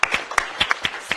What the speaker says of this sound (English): If we can all just give them a round of applause.